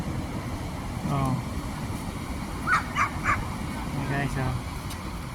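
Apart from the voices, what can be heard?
dogs barking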